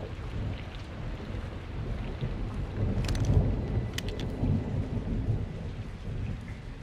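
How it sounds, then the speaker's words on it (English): Heavy rain pours steadily in the Modern Warfare II game, broad and constant, with low rumbles of thunder rolling underneath and a few sharper crackles partway through; no one speaks. "It's raining fucking hard."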